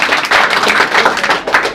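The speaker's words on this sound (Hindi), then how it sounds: "एक बार ताली दीजिए आप लोग।" Students at a coaching class in Madhubani district, Bihar, clap together for a classmate's exam result, giving a dense, steady burst of hand claps up close.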